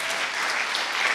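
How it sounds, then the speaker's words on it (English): An audience at MTF London 2014 breaks into sustained applause for Adam John Williams, a dense, even wash of clapping from many hands filling the room. "Can we have a big round of applause, please, for Adam John Williams?"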